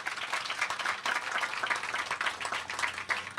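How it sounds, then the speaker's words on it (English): Audience applause at a mayor's press conference for a ribbon cutting, a dense steady wash of many hands clapping from a crowd, continuous and fairly loud with no talking. "Give her a big round of applause."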